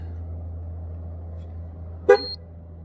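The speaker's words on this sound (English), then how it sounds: "If it's a pass, the horn is gonna sound" A Ford F-series pickup truck horn toots once, brief and sharp, confirming a tire pressure sensor reset, against a quiet low hum of the idling truck.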